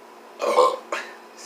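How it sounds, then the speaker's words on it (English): A person burps after drinking soda during a two-litre soda challenge. One rough, close belch is followed by a shorter second burst, fairly loud against a quiet background. "You burped already?"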